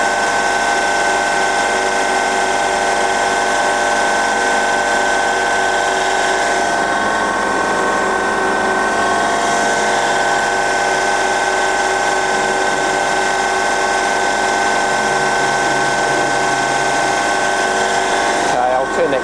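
A Jakobsen SJ 12 hydraulic surface grinder runs with its grinding wheel, hydraulic traverse and crossfeed all working, producing a loud, constant mechanical whine and hum with faint rhythmic shifts from the table movement, close and unbroken throughout.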